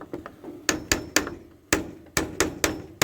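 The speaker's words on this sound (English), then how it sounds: "I give them a little bit of a tighten down and a tap" A hammer taps half-inch carriage bolts into wood on a truck, about nine sharp close knocks in an uneven rhythm, each ringing briefly, with no talk.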